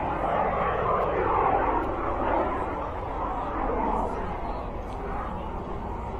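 Vinyl-wrapped jet airplane flying aerobatic rolls at the Wasatch Air and Space Show in Utah, a continuous loud engine roar with faint crowd chatter underneath.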